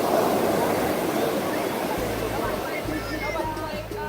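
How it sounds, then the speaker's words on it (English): Ocean waves wash onto a Malibu beach in a broad, steady roar of surf, loud and close, while a voice talks over the water near the end. "Waves are crashing."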